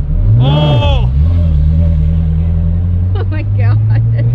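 A Ferrari F430 sports car engine revs sharply once, then settles into a steady, low idle, with brief voices near the end, at a car cruise event.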